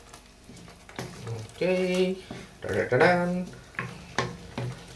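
Mattar paneer masala with yogurt gets stirred in a hot pan, a soft sizzle and scraping of the spoon against the metal, heard mostly under a person talking.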